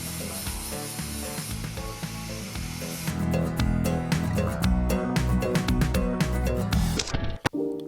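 Spray adhesive (spray mount) hissing from an aerosol can in a car workshop: a steady, bright hiss for about three seconds, then rapid mechanical clicking and rattling over a tonal background, with no talking.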